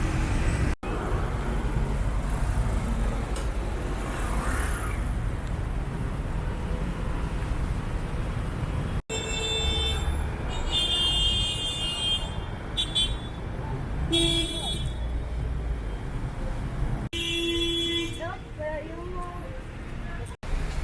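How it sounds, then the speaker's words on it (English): Heavy street traffic in Cucuta, Colombia, with running car and bus engines and repeated car horn blasts in short bursts over a constant roadway rumble, with a voice speaking intermittently. "One thing I did not know about Cucuta was how crazy traffic got here."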